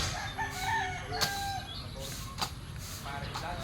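Chickens in a backyard pen, with a rooster crowing over clucking hens and steady farmyard background noise, a few sharp calls standing out.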